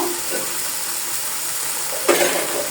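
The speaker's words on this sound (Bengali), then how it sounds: "ভালো করে আমি ভেজে নিব এখানে পেঁয়াজটা। এখন এই সাইডে আমি আইড় মাছগুলো দিয়ে দিব।" Onions and aar fish sizzle and crackle in a hot pan, a steady broadband hiss with a brief stir or clatter, close and moderately quiet with no voices.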